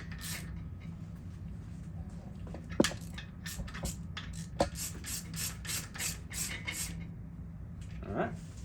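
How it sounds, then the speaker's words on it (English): A ratchet tightens the harmonic balancer bolt into the crankshaft of a small block Chevrolet, a run of rapid rhythmic clicks with a couple of sharp metallic knocks, while someone talks quietly at times. "What I'm going to do is tighten this into the front of the crankshaft."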